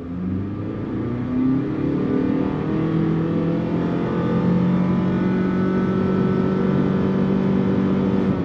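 2022 Mitsubishi Outlander Sport with a CVT, its engine revving steadily under throttle from a stop, holding a constant buzzy drone with no gear changes, loud and continuous throughout.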